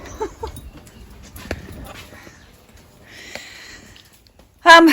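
Dogs move about indoors with soft sniffs, scuffs and faint snorts, scattered and fairly close, before a sudden louder burst at the very end.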